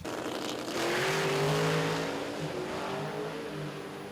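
Drag race cars at an NMRA/NMCA event in Chicago run side by side down the strip, a sustained loud engine roar with rising pitch as they accelerate, steady and continuous throughout.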